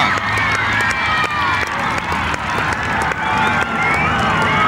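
Cricket crowd at an England match in Australia, 1986, cheering and applauding steadily as a tail-end partnership fights back, a dense roar of voices and clapping throughout with scattered shouts rising above it.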